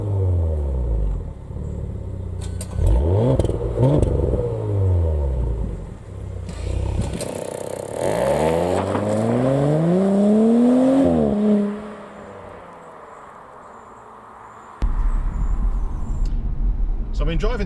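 An Audi S4 engine revs and accelerates loudly with rising and falling pitch sweeps, then drops to a low idle before surging again.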